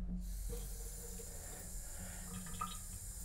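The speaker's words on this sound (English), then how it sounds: "get the brush wet" Water runs from a tap to wet a shaving brush before lathering, a soft steady stream with light splashing and brief gurgles, close and alone.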